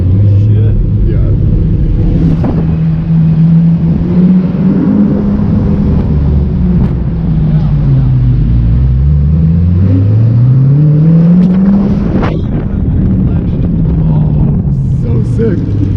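A straight-piped 2006 Ford GT drives through a tunnel, its loud engine roaring and revving continuously with rising and falling pitch sweeps, close and booming throughout.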